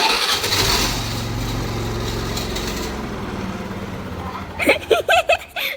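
A Honda Activa scooter engine cranks and catches with a loud, rough rumble that gradually eases, and a voice speaks briefly near the end.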